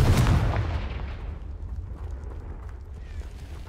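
A Confringo fire spell cast in Hogwarts Legacy, a video game: a loud booming blast right at the start that rolls into a rumbling, crackling decay for several seconds, with no talk.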